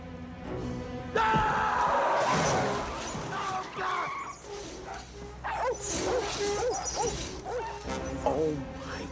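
Several small dogs bark and yip excitedly around a truck, close and loud, with whimpers, tire skidding and engine noise mixed in while someone shouts over them.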